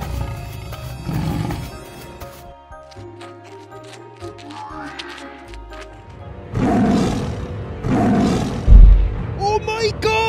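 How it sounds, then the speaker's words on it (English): A tiger roars while attacking a buffalo in a toy farm animal diorama scene. Several loud, rough roars come in bursts, with spoken narration and other animal sounds between them. "the tiger is about to attack the buffalo"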